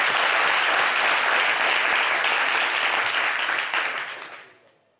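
A talk-show audience applauds for a rapper, dense, close clapping that holds strong for about four seconds and then quickly fades out to silence.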